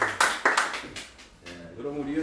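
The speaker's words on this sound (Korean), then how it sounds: "당선 박수 한번 치고" A small group claps to celebrate an election win, a few brisk rounds of applause at the start, then talk continues as the clapping fades.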